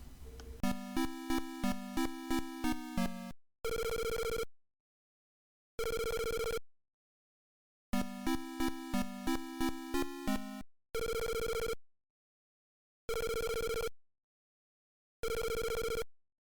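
Phone booth music from the Game Boy game Zelda: Link's Awakening, a chiptune phrase of quick plucky notes followed by evenly spaced ringing tones with silent gaps, the whole pattern repeating twice, clean and alone.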